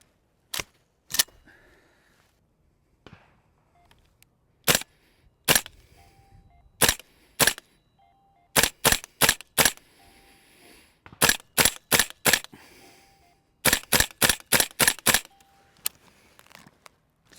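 Airsoft recoil gun, a bolt-action style rifle compared among GBLS, Tokyo Marui and GHK models, cocked and fired repeatedly: sharp, loud snapping cracks in scattered singles and quick bursts, with faint mechanical clicks between shots and no talking.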